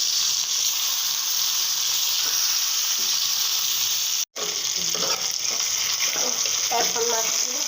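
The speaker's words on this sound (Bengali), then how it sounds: "তেলটা দিয়ে দিয়েছি কড়াইতে, দিয়ে ভালো করে একটু ভেজে নেব।" Rohu fish fries in hot oil in a kadai, giving a loud, continuous sizzle with a brief cut midway and some spattering crackles toward the end, no talking.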